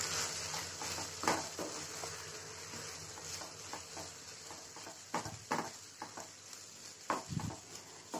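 Homemade eggless atta noodles being gently stirred in a pan over a low flame, with soft intermittent scraping and clinks over a faint sizzle, fairly quiet and with no speech.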